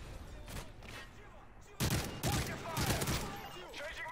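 Gunfire in the video game Black Ops 3, continuous loud rattling bursts with rapid shots and a sharp rise midway, layered with game effects and players talking over it.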